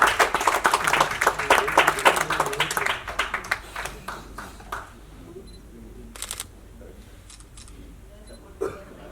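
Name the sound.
audience clapping at an award ceremony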